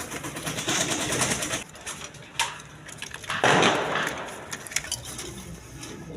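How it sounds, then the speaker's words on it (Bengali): Pigeons at a farm loft, among them a pair of large chila pigeons, coo among crowded, noisy background sounds with scattered sharp knocks and rustles. "এখানে আরেক পেয়ার কবুতর আছে, চিলা কবুতর দেখেন"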